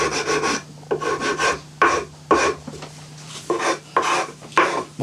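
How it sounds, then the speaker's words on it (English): Sanding or chiselling works soft mahogany on a scratch-built Les Paul Junior style guitar body, giving a series of close, loud rasping strokes in an uneven rhythm with short pauses between them. "I'm going to finish that with a chisel or some sandpaper or something"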